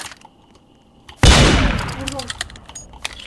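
Gunfire in the Roblox game Murder Mystery 2: a quiet stretch, then a sudden loud blast that tails off into crackling echoes, with a few sharp clicks afterward.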